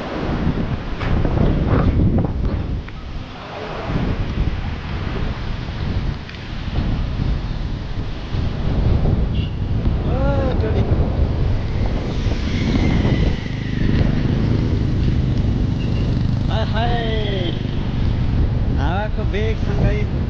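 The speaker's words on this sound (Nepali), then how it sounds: "हावाको बेगसँगै" Strong wind at a bridge in Kalikot, Nepal, roaring and buffeting loudly against the microphone for the whole stretch, with faint voices now and then underneath.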